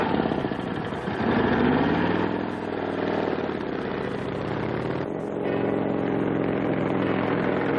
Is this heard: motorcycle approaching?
yes